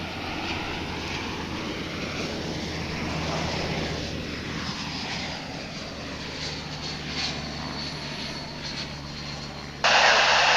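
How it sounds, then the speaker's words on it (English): American Airlines Airbus A321 jet arriving from Oklahoma City at Dallas/Fort Worth International Airport, a steady broad engine roar sustained throughout, with a louder hiss surging in near the end. "That's an American Airlines flight from Oklahoma City, just to the north of here."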